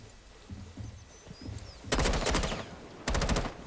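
Two loud bursts of automatic gunfire from a weapon in Rainbow Six Siege, the first longer and the second shorter, close and sharp after a few quiet seconds of low game ambience.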